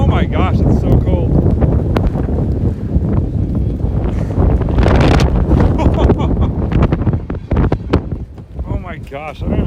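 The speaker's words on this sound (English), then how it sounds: "it's definitely windy, like probably 20 to 30 miles an hour out there" Strong gusty wind of about 20 to 30 miles an hour roars and buffets the microphone in uneven surges during heavy snow in central Minnesota, with a voice talking intermittently underneath.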